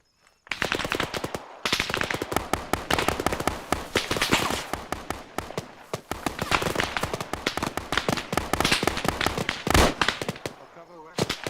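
Rapid automatic gunfire from a tactical shooter video game, close and loud, sustained bursts of dense cracking shots nearly without pause, with a few brief gaps between volleys.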